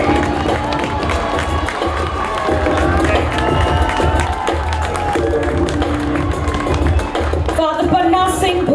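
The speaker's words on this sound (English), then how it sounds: "Come on, you can clap louder." An outdoor crowd at a peace rally inauguration claps and cheers, a loud, busy wash of clapping, shouts and chatter that continues throughout with voices mixed in.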